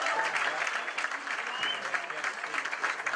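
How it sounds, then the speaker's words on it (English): At the Long Island Hospitality Ball charity gala, a roomful of guests applauds warmly, with uneven, steady clapping and some voices mixed in. "give yourself a round of applause"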